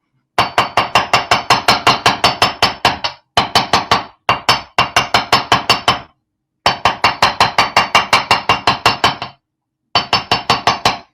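Steel wire struck with a hammer during wire working: quick, close, ringing metallic taps in fast bursts of about a dozen blows each, separated by short pauses, with no talking.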